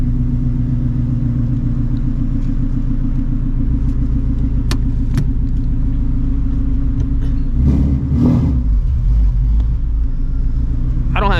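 A Shelby GT350 on drag radials launching in first gear, its loud engine rumbling steadily close by and then rising in a burst of revs; talk may be faintly present under the engine.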